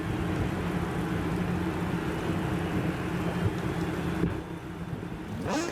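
Heavy rain on a wet MotoGP 20 race at Assen, a dense constant hiss of downpour with a low engine-like rumble beneath, steady throughout and free of talk.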